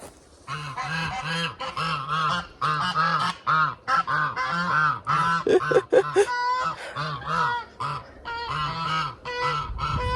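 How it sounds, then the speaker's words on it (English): Geese arriving in a fall garden honk and squawk in a loud, busy chorus of repeated nasal calls, close by and continuing throughout with brief gaps. "The geese are coming in."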